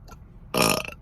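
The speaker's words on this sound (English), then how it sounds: "burping, disgusting." A single loud, close burp bursts out after a short lull, with a faint rumble before it and a brief tail after.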